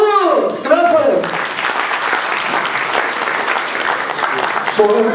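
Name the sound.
audience clapping for a doctor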